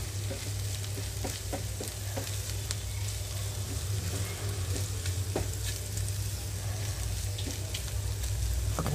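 Sliced ivy gourd fries in a pan with dry coconut powder, giving a continuous close sizzle and crackle with occasional sharper pops.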